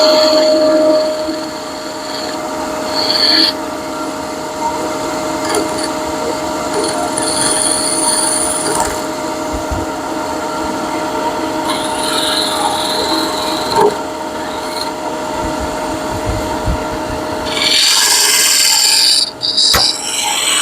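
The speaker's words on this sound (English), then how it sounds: "and I think we're ready to sand." Sandpaper held against a wooden spaghetti server as it spins on a lathe, giving a steady broadband hiss with a constant motor hum beneath, fairly loud and unbroken for about twenty seconds, with a sharper scratchy burst near the end.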